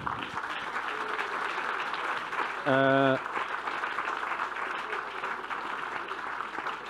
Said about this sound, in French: Merci aussi à toute l'équipe technique. On peut les applaudir.